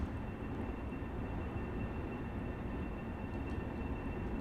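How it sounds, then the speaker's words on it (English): Long Island Railroad trains passing one another in the Train Sim World 2020 game, a local train going by an express at sunset: a steady, continuous low rumble and rolling rail noise, close and unbroken throughout, with no talking. "So the 2 local trains pass by the express train."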